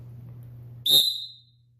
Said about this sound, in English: what an official is known for is a whistle.